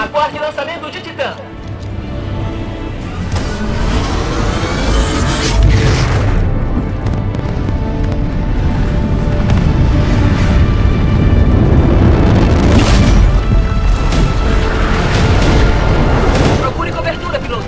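Titan launch explosions in the video game Titanfall 2 boom loudly and repeatedly, with heavy blasts and dense rumbling over a continuous battle din, under near-constant talk and radio chatter.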